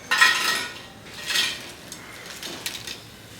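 Fried banana chips tumble onto a plate in a few light, crisp clattering bursts with faint clinks, close by and with no talking.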